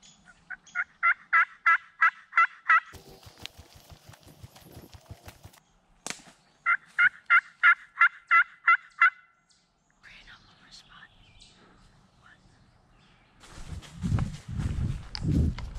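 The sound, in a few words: wild turkeys gobbling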